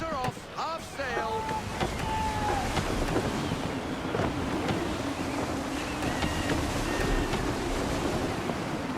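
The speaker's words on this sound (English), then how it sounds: "Gusty winds can be difficult to manage." Wind gusts buffet a sailing ship in the game Assassin's Creed III, with steady surf and sea wash throughout and creaks of the vessel, while voices call out over the rush of water.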